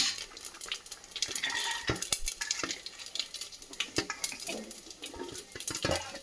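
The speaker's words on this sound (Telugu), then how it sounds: "చిటపట రాగానే మిరియాలు కూడా టపా టపా లేచి పైన పడుతున్నాయి" Peppercorns crackle and pop in hot oil while pongal tempering fries in a pan, with dense continuous spitting and sharp pops alongside clinks of a utensil against the pan, fairly close and steady with no talking.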